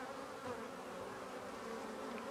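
Honeybee swarm buzzing, a dense continuous drone of many bees at low volume, steady with no voices.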